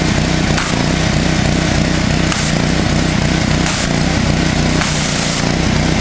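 A pressure washer fitted with a spinning turbo nozzle sprays hard in a loud, steady rushing roar that fills the whole clip, with brief brighter hissing bursts as the jet shifts across the surface.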